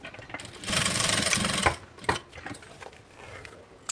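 A sewing machine stitches synthetic backpack material in a close, loud burst of rapid mechanical whirring lasting about a second, followed by a few short stitch runs and clicks.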